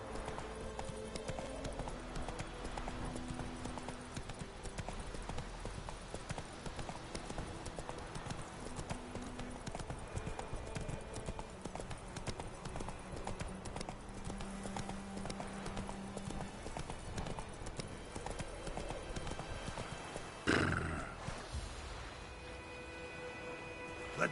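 A horse gallops in The Witcher 3 video game, a fast, even clip-clop of hooves running continuously with a louder burst near the end.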